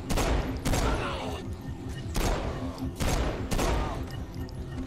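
Gunfire in the video game Saints Row IV, a series of heavy booming shots with a roughly regular rhythm that roll into dense, sustained rattling bursts, loud and up close, with no talking over it.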